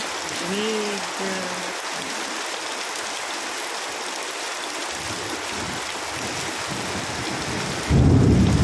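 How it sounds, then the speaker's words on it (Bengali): Heavy rain pours steadily throughout a thunderstorm, a dense hiss of drops on surfaces, with a loud, close rumble of thunder bursting in near the end; no one speaks. "আমাদের এখানে এত জোর বৃষ্টি হচ্ছে"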